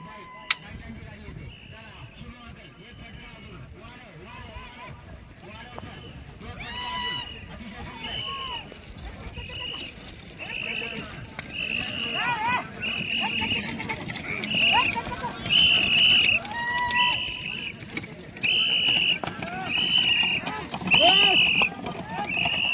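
Bullock carts rush past in a bullock cart race, with rhythmic hoof beats and rattling, bells jingling repeatedly over excited shouting and crowd noise, growing louder toward the end.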